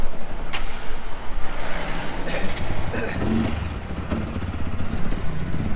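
TVS Apache 200 4V BS6 motorcycle with a misfiring, stalling engine is held on the throttle, a close, rough, uneven exhaust drone with pulsing surges and small flutters, running continuously with no talk.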